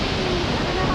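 Shifen Waterfalls in Taiwan roar as a steady, dense wash of falling water that fills the whole second at a constant loud level, with no clear voice standing out above it.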